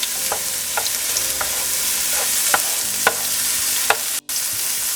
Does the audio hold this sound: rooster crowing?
no